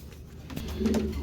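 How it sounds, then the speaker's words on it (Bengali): A pair of Jacobin pigeons at a farm pigeon market coo close by, a soft low throaty call swelling toward the end of the short stretch. "জ্যাকোবিন কবুতর এক জোড়া"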